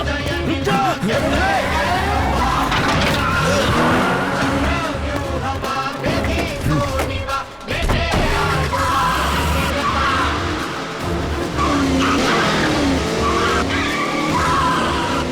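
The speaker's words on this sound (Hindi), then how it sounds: "गाड़ी स्टार्ट कर" A getaway car starting and speeding off during a chase, its tires squealing and skidding over a roaring engine, loud and close, with shouting voices and dramatic music mixed in.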